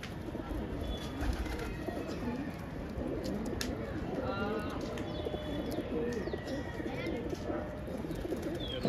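A crowd of perched pigeons, Patiala fighting birds, gives off continuous low cooing along with scattered chirps and brief whistling calls, all thick and steady from start to end. Muffled voices can be heard at the edges.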